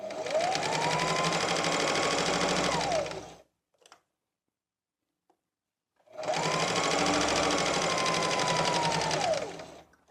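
A sewing machine stitches the panels of an eight-panel flared skirt in two steady runs of about three seconds each, separated by a pause, close and loud with no talk.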